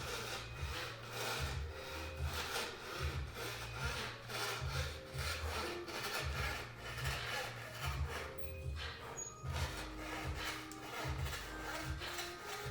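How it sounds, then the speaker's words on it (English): Steady rhythmic strokes of a fret saw rasping through thin wood veneer for marquetry, close and continuous, with a brief pause before the cutting resumes. "I needed to stop sawing right there"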